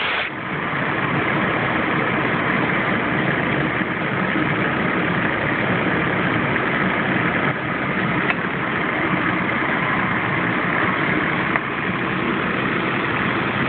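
A 1998 Chevy Blazer engine idles steadily with its AC compressor engaged, producing a constant loud mechanical drone and whir with faint clicks and no break.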